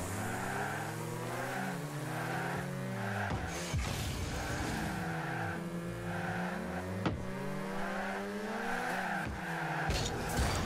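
Car engines revving and sliding in the Rocket League video game, rising and falling engine tones with tire squeals and skids, steady and close, with brief impact thuds.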